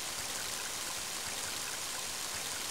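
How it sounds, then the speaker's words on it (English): Heavy rain in the video game Mother 3, a steady dense hiss of downpour with no breaks, even and fairly soft, with no voices. "Mighty heavy rain, isn't it?"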